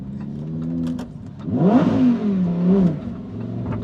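A Lamborghini engine revs up sharply, rising and falling in pitch over a couple of seconds before settling back to a steady idle, close and loud.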